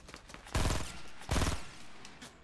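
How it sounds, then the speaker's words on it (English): Fortnite gunfire comes in two heavy, booming bursts with a lighter crackle of shots between them, loud and close. "They're shooting at me."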